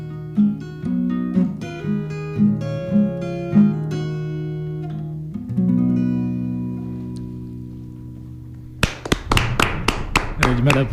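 Several sharp hand claps near the end, about seven quick claps in a short burst from one person in a radio studio, following a stretch of music with a sung melody.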